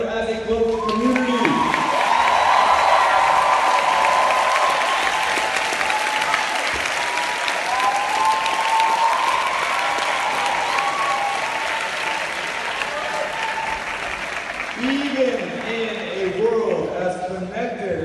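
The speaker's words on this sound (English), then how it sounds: "Can you begin in this moment by honoring them with the applause that they have earned as a global community?" Sustained applause from a large audience at a global community gathering, steady and loud for most of the stretch, with a voice breaking in near the start and again near the end.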